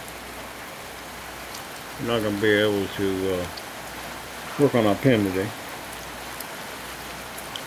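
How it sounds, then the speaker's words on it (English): Steady rain falls outdoors over a chicken run being built for quail, a constant hissing wash of drops, with someone speaking briefly over it twice. "But it's definitely raining"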